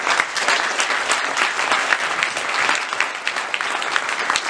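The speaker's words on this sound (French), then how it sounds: "Je vous demande d'applaudir comme il le mérite." Lively applause from an audience, dense clapping with sharp individual claps standing out, continuous from start to finish.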